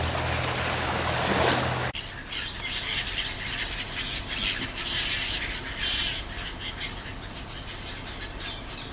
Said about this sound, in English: that's a lot of seagulls